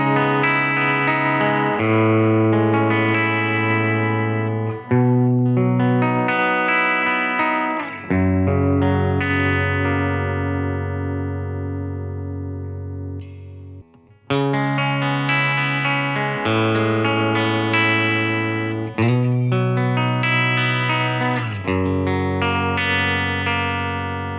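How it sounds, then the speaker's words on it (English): Semi-hollow electric guitar with a 3-way switch and push-pull coil-split tone pot, playing loud, sustained, distorted chords and melodic phrases in several passages separated by brief pauses. "It is quite a tonally versatile guitar, with it being semi-hollow for a start, having the 3-way switch and the push-pull tone pot for coil splits."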